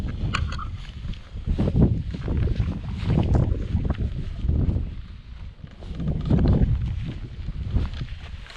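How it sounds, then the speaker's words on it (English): Strong, gusty wind buffets a tarp camp at Dinorwic Quarry in wind and rain, a steady loud roar that rises and falls in surges with no talk. "The wind is quite high, so."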